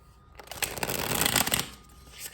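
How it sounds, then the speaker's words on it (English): A deck of playing cards is shuffled up close, a dense riffling flutter lasting about two seconds that swells and then trails off. "Y'all don't judge me by my shuffles."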